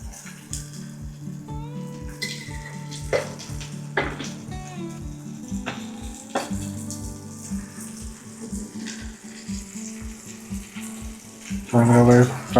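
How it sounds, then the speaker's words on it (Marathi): Bombay duck (bombil) fish frying in oil in a pan, a steady crackling sizzle running throughout with intermittent clinks of utensils, growing louder and busier near the end. "चांगला वेळ फ्राय झालं पाहिजे."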